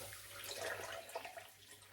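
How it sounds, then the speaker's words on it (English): Warm water poured into a bowl of brown sugar and salt, a soft, faint splashing trickle lasting under two seconds, heard alone without speech. "I'll pour the warm water in the mixture of sugar and salt"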